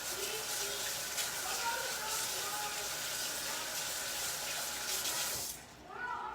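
Tap water runs steadily into a kitchen sink as fingers are rinsed under it, a continuous close hiss that cuts off abruptly near the end.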